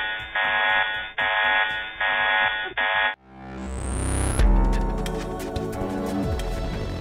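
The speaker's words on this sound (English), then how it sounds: "But suddenly, an alarm rings and calls for their undivided attention." A control-room alarm at the VLT observatory buzzes loudly in three repeated pulses, then gives way to a rising electronic tone and a dense, sustained wash of clanging sound with no talking.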